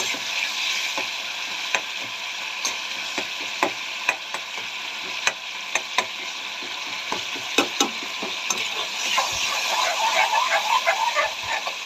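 Onion and tomato sizzle in oil in a pan after a little water goes in, a steady hiss broken by sharp scattered pops and crackles that build to a louder bubbling near the end.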